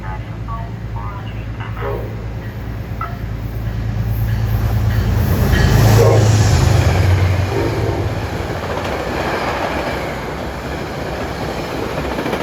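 A Metro North train passes at Ardsley-on-Hudson, swelling from a distant rumble into a loud, close rush of wheels and carriages with a brief horn, then fading back into a steady roar.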